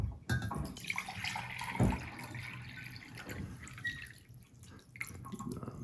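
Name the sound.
water poured out to measure it for jasmine rice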